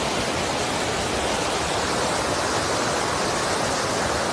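Abbi Falls near Sakleshpur pours down in a steady, loud, dense roar of rushing water that fills the whole clip, close by and with no voices.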